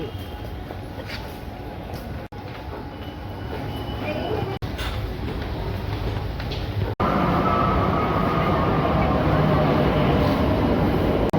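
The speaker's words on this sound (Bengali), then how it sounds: "দুটো ট্রেন মেট্রো মিস করার পর তারপর আমরা উঠলাম" A metro train ride, heard as a steady loud rumble of the carriage in motion with rail and wheel noise, growing louder partway through.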